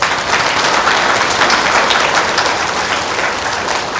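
An audience claps hands together during a Telugu religious discourse on the Shiva Purana, a dense, steady wash of applause sustained at even loudness with no talk.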